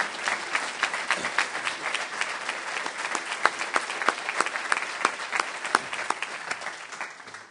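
An audience claps steadily for several seconds, a dense patter of many hands at even volume with no one speaking.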